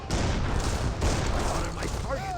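Cannon and musket fire crackle densely in an Age of Empires 3 battle, a continuous clatter of overlapping shots and booms at steady loudness, with a faint voice underneath.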